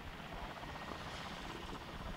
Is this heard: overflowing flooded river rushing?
no